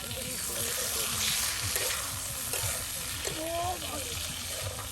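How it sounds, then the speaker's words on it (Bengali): Onions and chilies fry in oil outdoors on a misty riverbank, a steady loud sizzle with stirring scrapes and a few clinks, while a person talks over it. "আবার ভাজা করা হচ্ছে।"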